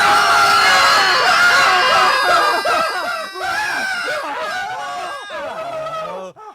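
A person screams in a horror movie, a long, loud, strained shriek with wavering pitch that dips and trails off near the end, sounding alone.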